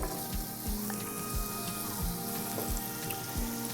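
Garlic with one dry onion and some fresh onions sautéing in a pan, a steady close sizzle with faint crackle and a few soft low knocks of stirring throughout.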